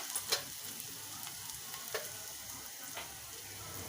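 Onion frying in a pan with turmeric just added, a soft steady sizzle with a few faint clicks of a spoon against the pan, fairly quiet and with no voices.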